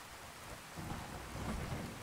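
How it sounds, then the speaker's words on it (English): Heavy rain pours steadily with a low rumble of thunder that swells partway through, soft and even, with no voices. "Oh, it's fucking pouring rain again."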